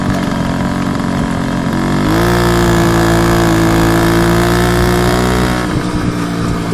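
Small engine of a Puch Pinto II motorcycle ridden off-road at half throttle, a loud close buzzing drone that rises in pitch, holds steady for several seconds, then drops back down.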